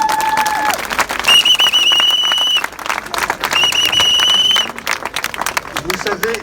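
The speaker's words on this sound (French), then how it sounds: "On les applaudit, merci à vous." Outdoor applause at a hospital staff demonstration in Corbeil-Essonnes, loud continuous clapping from a crowd with a couple of sustained whistles or horn tones cutting through, fading into murmurs near the end.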